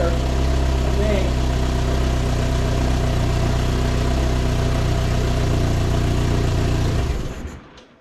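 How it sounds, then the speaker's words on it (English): A 1972 Fiat 850 Spider engine, recently brought back to running and still puffing a little exhaust smoke, idles steadily up close with a loud, even drone that fades away over the last second. "Well, it's idling okay."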